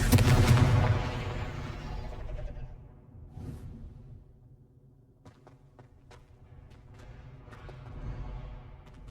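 The Confringo explosive spell goes off in the Hogwarts Legacy video game, a loud, close burst that fades into a rumbling tail, followed by a few soft clicks and thuds.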